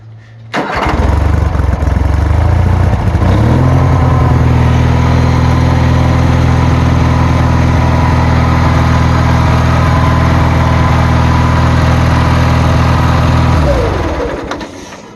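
Small engine on a homemade treadmill stump grinder cranks, catches and runs loud and close, settling into a steady drone for about ten seconds before it winds down.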